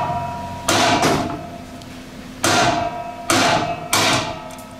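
Four loud, ringing hammer blows drive a Torx bit into a broken sprocket bolt on a 2021 Husqvarna TX300i dirt bike, metal-on-metal strikes spaced irregularly across a quiet workshop.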